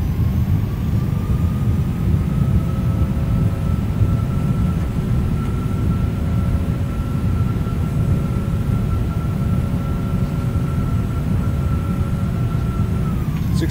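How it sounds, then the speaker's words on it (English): In the X-Plane 11 simulator, a Boeing 757 freighter's thrust reversers roar loud and steady after landing, a heavy low rumble with a long engine tone slowly falling and fading near the end. "Reversers, nose down gently."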